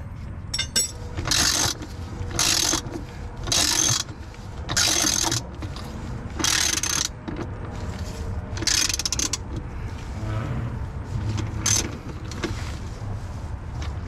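Hand ratchet tightening an engine mount bolt on a Jeep Renegade, a series of short, crisp clicking bursts in an uneven rhythm, close and fairly loud, with quiet pauses between strokes.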